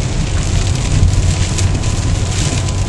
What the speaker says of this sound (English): So I can't keep the rain out of it.